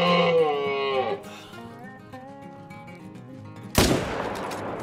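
A single sharp rifle shot cracks out loudly in theHunter Call of the Wild while hunting a grouse, a sudden burst after a quieter stretch of ambient game audio, fading into a brief lingering echo.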